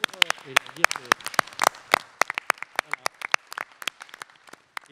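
Scattered, uneven hand claps from a small audience at a municipal council meeting, a handful of sharp individual claps spreading through the room, with faint voices underneath.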